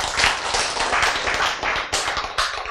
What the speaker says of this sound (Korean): 박수 좋아요. 박수.